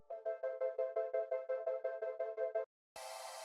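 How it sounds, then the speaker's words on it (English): Ambient layer from a melodic drum and bass track: a soft tonal pad pulses in a steady quick rhythm for a few seconds, cuts to silence, then a wash of airy noise swells in, quiet and alone. "Then I added some ambient sounds like this"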